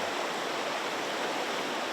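A large river rushes over rocks in a steady, dense wash of water noise that stays even and close throughout, with no voices.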